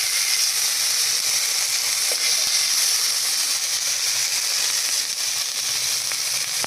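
Masala Maggi noodles with Schezwan chutney and mustard seeds sizzle loudly in a pan, giving a steady, close, hissing fry with a few faint pops, alone without talk.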